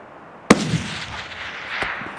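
A single sharp rifle shot cracks close and loud during a Dall sheep hunt in Alaska, followed by a rolling echo, with a fainter second report trailing off shortly after.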